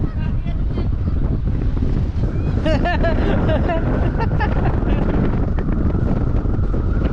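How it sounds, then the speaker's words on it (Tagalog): Strong wind buffets the microphone in a constant heavy rumble at the Souris Swing Bridge, with voices talking faintly underneath and water sounds in the background. "So mahangin lang pero ang lakas ng hangin."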